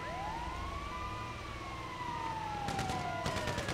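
An ambulance siren in GTA Online wails in long rising and falling sweeps, loud and close, with sharp game sounds cutting in near the end.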